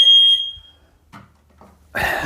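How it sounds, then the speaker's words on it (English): A kitchen smoke detector goes off while sausage and cream cheese biscuits bake, giving a single loud high-pitched electronic beep that cuts off quickly, followed by a brief burst of noise. "there goes the smoke detector."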